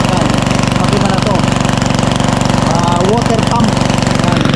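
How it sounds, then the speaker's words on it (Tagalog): An engine-driven water pump used for farm irrigation runs loud and steady nearby, a constant rough mechanical drone with rapid knocking pulses, while people talk over it. "Water pump."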